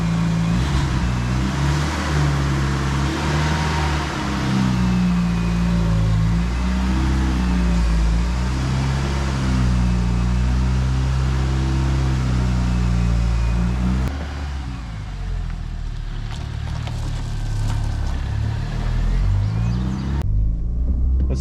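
An abandoned 1985 Dodge Daytona's engine running, a loud, steady, close rumble with slight shifts in pitch that drops somewhat in level partway through and carries on alone, with no talk.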